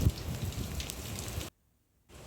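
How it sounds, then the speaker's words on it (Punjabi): Steady heavy rain pours down in a dense, broadband hiss with scattered drops, then cuts to silence briefly before resuming. "ਤੇ ਹਜੇ ਵੀ ਮੀਂਹ ਹਨਾ ਕਾਫੀ ਪੈ ਰਿਹਾ"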